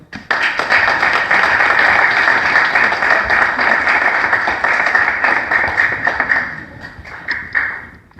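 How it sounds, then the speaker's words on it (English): A crowd at a Somaliland 65th anniversary gathering in Birmingham applauds MP Preet Gill, with loud, dense, sustained clapping that holds steady for several seconds and then thins out. "put your hands together for MP Preet Gill"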